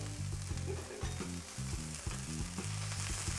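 Seasoned smash burger toppings sizzle steadily on a hot griddle, a continuous close frying hiss with low rhythmic tones pulsing underneath throughout.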